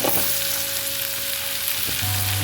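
Onions and garlic fry in butter in a pan, giving a close, steady broadband sizzle with a low clatter near the end, and no voices.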